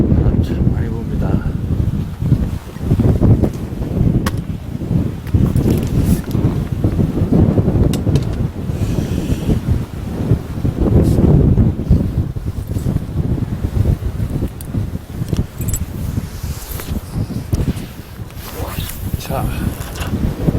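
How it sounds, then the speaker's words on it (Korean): Strong sea wind batters the microphone during a fishing trip, giving a constant loud rumbling roar that gusts up and down throughout, with a voice faintly mixed in. "바람 참 많이 붑니다"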